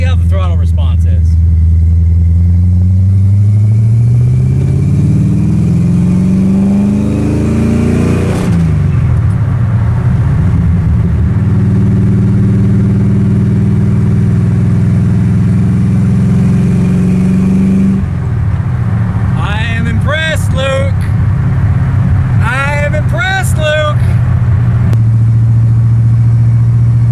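A 1979 AMC AMX engine fitted with a feedback carburetor is loud from inside the car as it revs up under throttle while driving, falls back, then climbs again. Someone talks over the engine near the end.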